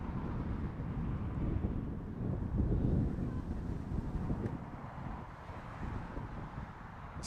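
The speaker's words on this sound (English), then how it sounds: "It's a bit breezy again, isn't it?" Breezy wind at Heathrow Airport buffeting an outdoor microphone, a low, continuous rumbling gust noise that rises and falls slightly throughout, with no speech.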